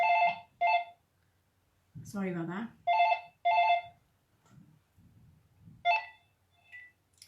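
A phone rings in repeated bursts, several short electronic ring pulses that stop and start. Someone speaks briefly between the rings.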